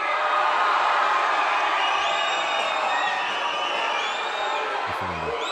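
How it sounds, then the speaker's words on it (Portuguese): Grêmio supporters in Porto Alegre greet Luan's arrival with a continuous roar of cheering and shouting, a thick, steady crowd noise with a few whistles and a sharp knock near the end. "com o torcedor ali aplaudindo, gritando o nome dele"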